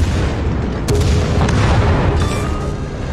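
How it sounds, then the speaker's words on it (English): Torpedo hits blow apart a destroyer in a naval battle video game, a dense, continuous roar of booming explosions and artillery-like blasts, loud and close throughout with sharp cracks near the start and middle. "Enemy destroyer blown up."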